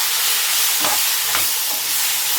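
Bitter gourd fries in oil with ground masala, a broad steady sizzle filling the clip, while two or three soft scraping strokes of a spatula stir the pan, with no talk.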